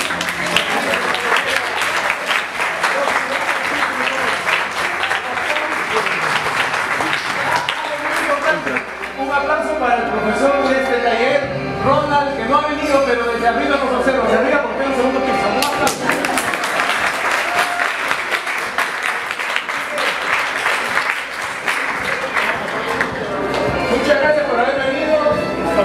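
Audience applause at an improv championship, the Copa San Marcos, a steady wash of clapping through the whole stretch, mixed with crowd noise and what may be music in the middle section.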